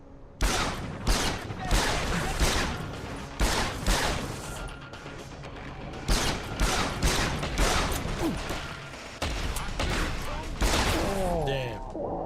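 Repeated shotgun blasts from the Deus Ex: Revolution video game, loud broadband bursts arriving every second or so over about twelve seconds, with a voice talking underneath and a few rattling crashes near the end.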